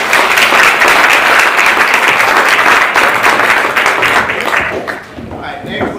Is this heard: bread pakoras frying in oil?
no